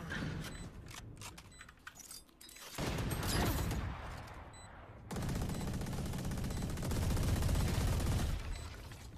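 Gunfire in the tactical shooter Valorant at a site doorway, heavy, sustained bursts of shots and game noise filling most of the stretch, loud and close, with a brief lull in between.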